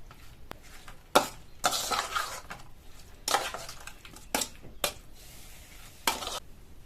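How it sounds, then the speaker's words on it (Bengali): Shrimp being mixed by hand with spices and mustard oil in a bowl, giving a series of wet, squelchy scraping and clinking bursts with short pauses between them, close by and with no talking. "এবার সবকিছু দিয়ে ভালো করে মিশিয়ে নেব।"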